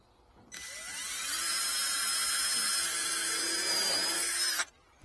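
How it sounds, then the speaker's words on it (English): A power drill bores pilot holes for gate hinges in a single continuous run of about four seconds, its high whine rising slightly in pitch and staying loud and steady before stopping abruptly. "he's going to do all the screwing in, and Daddy's doing the pilot holes"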